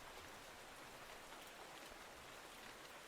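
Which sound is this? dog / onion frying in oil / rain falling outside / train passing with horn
rain falling outside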